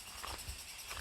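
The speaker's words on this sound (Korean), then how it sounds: "지금 매미 소리 들리시죠? 이 소리를 하루 종일 들을 수 있습니다." Cicadas drone faintly and continuously at a forest campsite in Hongcheon, a steady buzzing chorus heard from a distance with no voices.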